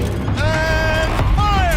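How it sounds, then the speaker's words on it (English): A tank turret rotating in Horizon Zero Dawn gives off a mechanical whirring creak with gliding tonal whines, steady and fairly loud for under two seconds. "Rotate turret!"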